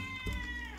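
A cat meows close by, a single short drawn-out call with a steady hum of market or room noise behind it, near a stall selling fresh fish.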